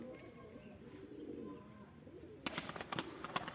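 Pigeons coo softly in the background of a quiet yard, then a burst of louder flapping or fluttering sounds follows close by.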